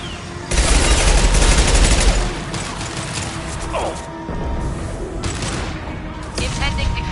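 Heavy gunfire bursts from an impact shot in the video game Mass Effect 2, a loud dense volley up front followed by continuing combat noise, shots and crashes, with voices talking over the battle.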